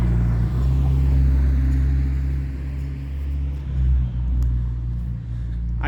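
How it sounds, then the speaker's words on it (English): A loud car passing on a residential street, a deep engine rumble that swells, holds and slowly eases off, heavy in the low end and steady throughout. "there's a loud car coming down the street"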